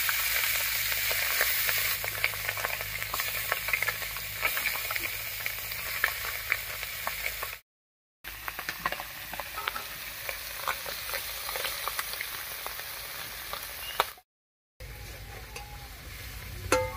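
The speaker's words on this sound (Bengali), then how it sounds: "এবারে কড়াইয়ে সরষের তেল দিয়ে মাছগুলো ভেজে নেব" Small fish frying in hot mustard oil in a wok, a close, steady crackling sizzle with bursts of spattering and stirring, briefly cut out twice.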